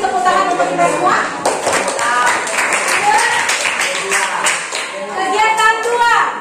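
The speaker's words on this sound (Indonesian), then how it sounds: "tepuk tangan untuk kita semua" Classroom applause: a group of students clap their hands in a lively, uneven patter lasting several seconds, with a teacher and children talking over it.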